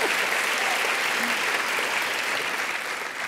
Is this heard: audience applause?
yes